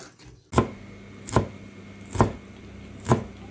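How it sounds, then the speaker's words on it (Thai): Four evenly spaced knife chops through coriander land on a cutting board, each a crisp thud close by, with quiet pauses between them. "เราก็เอาผักชีนะคะมาหั่นเนาะ"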